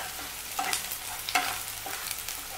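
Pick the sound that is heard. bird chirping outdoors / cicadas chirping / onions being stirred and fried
onions being stirred and fried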